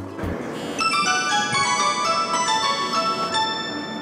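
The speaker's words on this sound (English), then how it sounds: "is the Nokia ringtone." The Nokia ringtone rings out from a Nokia 3310 mobile phone, a familiar bright, tinny electronic tune of repeating notes played close and clear over faint background noise.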